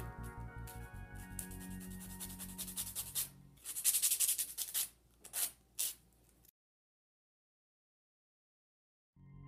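A nail file working along the edges of long clear acrylic nails, producing a steady close-up rasping and scraping that comes in short strokes, then stops abruptly into silence.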